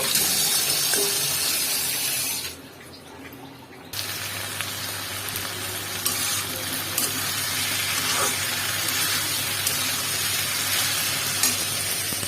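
Okra is washed piece by piece under a running kitchen tap, a continuous hiss of flowing water with a brief drop in the stream partway through, then steady again with light handling sounds.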